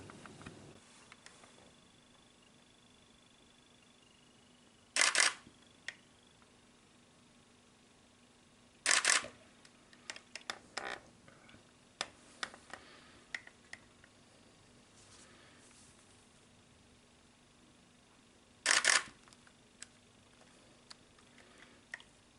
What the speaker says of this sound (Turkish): Vizörden bakıp lensimizin ayarıyla netleyeceğiz ve deklanşöre basacağız.